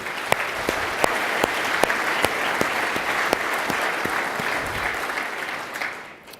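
A conference audience at an annual facilities meeting in San Francisco applauds the planning committee, a steady sustained crowd clapping with a few sharper nearby claps, fading out at the end.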